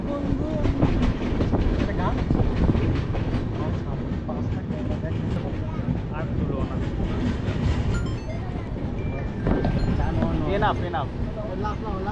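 Loud continuous rumble and rhythmic wheel clatter from the 22861 Kantabanji Ispat Express as it rolls into Ghatshila station, with people talking over the noise.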